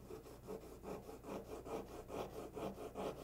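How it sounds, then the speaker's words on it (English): The end of a pen burnishes plaster with a steady, rhythmic rubbing and scraping, close and moderately loud, repeating in quick back-and-forth strokes with no talking. "you can even just use the other end of the pen to burnish it"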